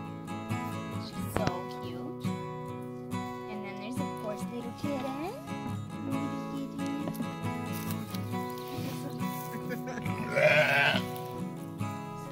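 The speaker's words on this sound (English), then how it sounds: "I love the sheeps too." Sheep bleat at a farm, a few wavering calls rising over steady background music while people talk nearby.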